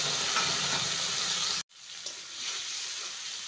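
Spice paste dropped into hot oil with bay leaf tempering, a loud hissing sizzle that breaks off sharply, then resumes softer and steadier as frying continues up close.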